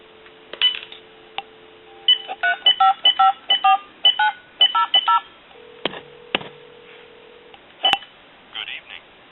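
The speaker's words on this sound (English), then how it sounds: "Give you some dial tone." Repaired candlestick telephone converted with a bell box gives a steady dial tone, then a run of quick DTMF touch-tone beeps in bursts, some with dial tone returning between them, clear and close.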